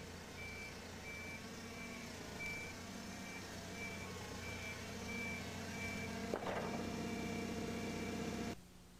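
A forklift travels slowly while its reversing alarm beeps at a steady, evenly spaced rhythm over a low engine drone, with a sharp clunk near the end before the motor cuts off.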